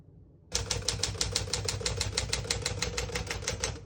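Rapid, even clacking of the keys of a 1958 Smith-Corona Silent portable typewriter struck in a steady rhythm, close and clear, starting abruptly after a brief silence.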